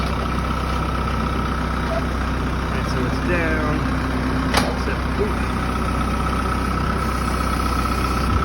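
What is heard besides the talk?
tractor engine idling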